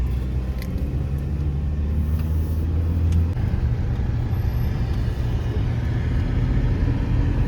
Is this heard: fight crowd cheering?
no